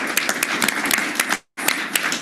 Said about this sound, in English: So round of applause for the Pirates baseball